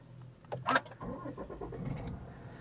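A Volvo S60 Cross Country engine cranks briefly with a whirring starter after a key start, then catches and settles into a steady low idle rumble, close by.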